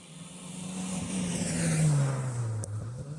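Historic rally car on a twisty tree-lined special stage, its engine building from a distant drone to a loud, close pass around the middle and then fading, with a steady rising-then-falling whine throughout.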